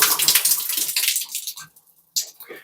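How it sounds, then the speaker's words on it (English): Water gushing from a Delta shower and tub valve with the cartridge pulled out, flushing the system: a loud rushing hiss that fades away, then a short renewed splash near the end. "we're just going to turn the water on for 60 to 90 seconds and then flush everything out"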